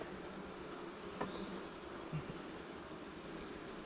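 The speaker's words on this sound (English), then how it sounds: "A lot of bees in there, sounds like." A steady, close buzzing drone of many honeybees inside a hive in an apiary fills the clip, a dense insect hum with no voices over it.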